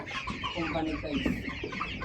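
Sonali chickens cluck at a poultry farm, several birds making soft, overlapping clucks at close range over a steady murmur of background noise.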